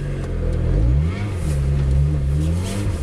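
A Lotus Exige accelerates on a snow-covered surface, the engine revving up through rising, wavering pitches that climb, dip and climb again, loud and close with no talk.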